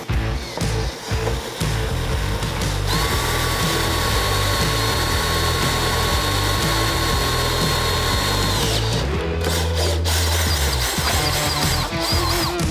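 Power drill with a 5/8 bit boring through a Harley-Davidson Touring tour pack, a loud steady whine held for several seconds under load, then a brief stop and a lower-pitched restart near the end.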